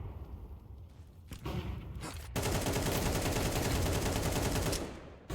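Sustained automatic gunfire in Counter-Strike on Dust2, a full magazine emptied in a dense, loud continuous burst after a few scattered shots and thuds.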